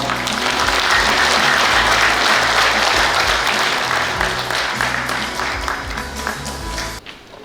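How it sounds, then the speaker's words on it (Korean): An audience at the first Separated Families Day ceremony applauds the Minister of Unification as he takes the stage, a loud sustained burst of many hands clapping that slowly tapers before cutting off near the end. "큰 박수로 맞아주세요"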